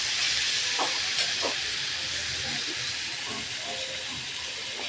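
Dhenki shak (fiddlehead fern greens) and spices frying in a kadai give off a loud, steady sizzling hiss that holds for the whole stretch, with faint clatter beneath.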